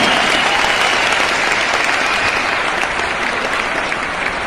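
Loud, sustained applause from a large crowd honoring Vestige leaders at a motivational business event, steady dense clapping filling the whole stretch without a break.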